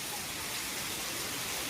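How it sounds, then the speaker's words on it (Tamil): Heavy rain in Singapore, a dense continuous hiss of downpour, close and loud throughout with no voices heard. "செம்ம மழையாக இருக்குது,"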